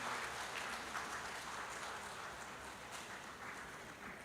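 Audience applause at a Christmas celebration held by an HKBP church district, a steady wash of many hands clapping that stays even and dense throughout the clip, with no speech over it.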